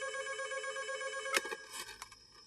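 A telephone rings in a hostel with a steady, bright electronic trill that repeats through the clip, and a sharp knock or clatter cuts in briefly partway through.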